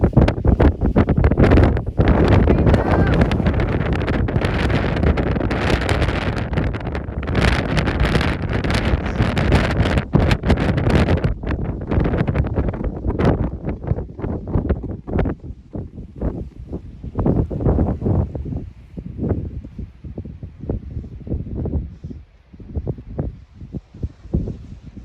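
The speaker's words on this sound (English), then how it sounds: "it's probably gonna be too windy to hear me anyway" Strong wind roars across the mountain summit of Caherconree, buffeting the microphone loudly and continuously, easing slightly later into gusty bursts.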